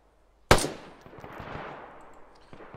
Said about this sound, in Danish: Jeg tror de skyder efter.